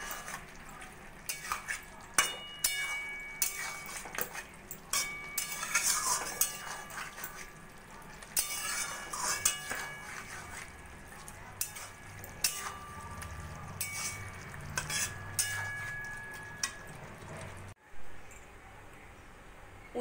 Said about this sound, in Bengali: এবার আমি একটুখানি ভাজা মশলা দেব, দিয়ে নাড়াচাড়া করে মিশিয়ে নিয়ে আমি গ্যাসটা বন্ধ করে দেব।